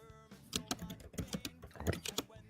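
Quick clattering keystrokes on a computer keyboard come through an open mic on a live online call, in uneven bursts of close, fairly soft clicks over about two seconds.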